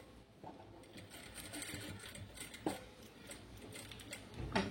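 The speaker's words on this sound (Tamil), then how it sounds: "இப்போ இந்த ட்ரெஸ்ஸுக்கு நம்ம மேலே ஒரு ஸ்டிச் பண்ணிடுறோம்." A sewing machine runs a line of topstitching on a dress. It gives a quiet, close, continuous whirring hum with occasional light ticks and knocks, and no one speaks.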